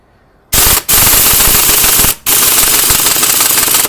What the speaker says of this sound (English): I mean the impact wrench, just so I can make things a little faster.